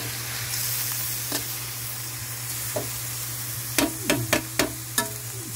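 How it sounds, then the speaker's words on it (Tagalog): Filipino-style caldereta simmers and sizzles steadily in a pan over a low background hum, while a spoon stirs it and knocks against the pan several times, with a quick run of sharp taps near the end. "Haluin lang po natin siya para guys pumantay ang kanyang pagkaluto."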